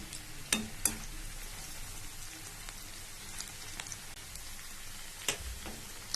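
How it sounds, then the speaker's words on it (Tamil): Cauliflower florets for gobi manchurian fry in hot oil with a soft, continuous sizzle, broken by a few sharper pops and crackles. No voices can be heard. "இப்போ நாம காலிஃப்ளவர் இதில் போட்டிருக்கோம்."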